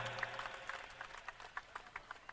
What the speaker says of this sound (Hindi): तो प्रेम हरि जी महाराज जी के लिए जोरदार तालियां भाई